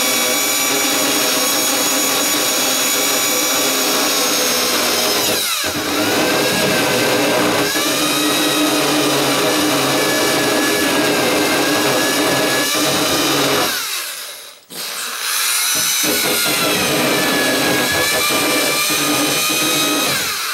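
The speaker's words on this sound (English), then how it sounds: "I guess I should keep the drill on kind of low," A power drill whines steadily at a loud, even pitch, boring into a wooden door, briefly cutting out once before spinning back up.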